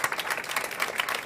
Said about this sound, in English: so big applause for these guys